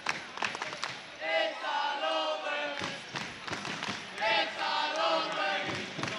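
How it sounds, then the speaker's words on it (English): A high school boys basketball crowd in a gym roars and cheers near the end of a home game against Chelmsford, loud sustained swells of voices with a commentator talking over them. "the crowd letting Chelmsford know that it's all over"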